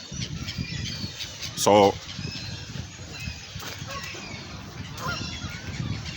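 Geese or other fowl just fed outdoors give one loud honking squawk, followed by scattered fainter squawks and cackles over steady background noise, while a person talks briefly.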